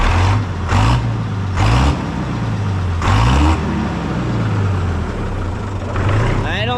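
Tractor engine running after switching over to the 60, a low steady idle with several brief rev-ups, with someone talking over it at close range.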